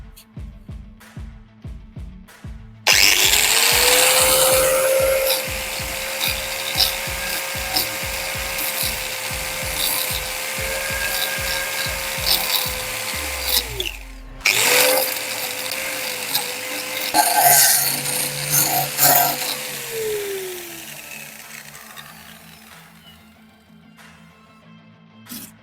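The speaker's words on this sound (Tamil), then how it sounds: "இப்போ என்ன பண்ணலாம்டா, இந்த செங்கல் வெட்டான்னு செக் பண்ணி பார்க்கலாம்." A power tool fitted with a blade made of paper cuts into a brick, its motor whining steadily for about eleven seconds, pausing briefly, then running again before winding down, with scraping grit throughout and low rumble before the start.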